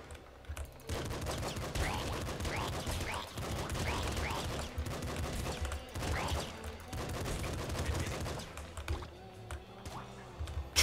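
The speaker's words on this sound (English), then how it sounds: "Triple machine gun." Triple machine gun in the video game Nuclear Throne fires loud, dense, rapid bursts of gunshots over several seconds, with brief pauses between volleys.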